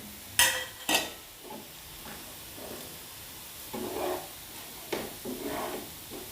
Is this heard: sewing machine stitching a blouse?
no